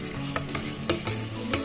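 Spices, turmeric, chili powder, kitchen king masala and salt, are stirred in a kadai for paneer, three sharp scraping knocks of the spoon against the pan over a low sizzle, close and without talk.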